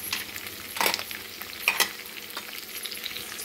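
Green chillies and curry leaves sizzling in hot oil with asafoetida, a steady crackling fry with a couple of sharper spatters as the pan is stirred.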